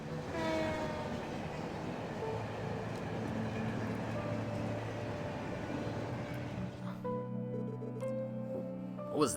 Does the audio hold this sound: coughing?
no